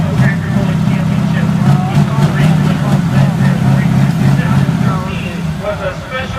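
A Massey Ferguson tractor engine growls hard at high revs, a loud, steady low rumble that holds throughout and eases slightly near the end, with a person talking over it.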